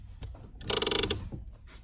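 Nissan Altima power seat motor whirring as the seat slides forward, a short mechanical buzz with a rapid ratcheting texture, preceded and followed by faint clicks and handling noise.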